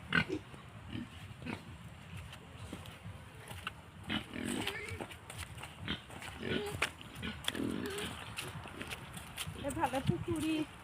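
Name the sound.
pig grunting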